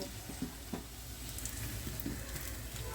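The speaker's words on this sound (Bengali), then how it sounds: "আমাদের ভাজাটা প্রায় হয়ে এসছে এটুকু কালার ধরলেই হবে বেশি লাল করবেন না" Dahi vada lentil fritters frying in oil, a continuous soft sizzle with scattered light pops and a few faint utensil taps, with no voices.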